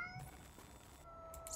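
A kitten in the video game Amanda the Adventurer gives a short, faint meow over a quiet electronic hum.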